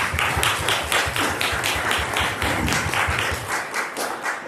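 Sustained applause fills a church annual meeting at St. Alban's, dense clapping from many hands at a steady loudness throughout, with no talk over it.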